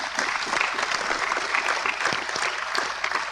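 An audience at a talk on Guyana's Low Carbon Development Strategy claps in a steady burst of applause, dense and fairly close, with no voices over it.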